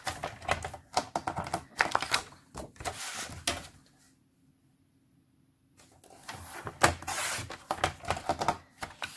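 Close, crisp snipping and slicing of paper in quick irregular bursts, broken by a few seconds of near silence before the cutting resumes.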